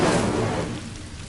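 The Incendio fire spell cast in Hogwarts Legacy: a loud, rushing whoosh of flame that roars up at once, then fades over about a second, with no voice over it.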